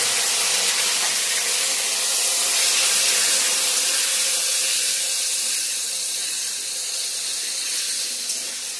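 Vegetables frying in a wok of hot oil with dried red chilli, bay leaf, cumin and ginger, a strong steady sizzle and hiss that swells and then eases slightly, close and uninterrupted.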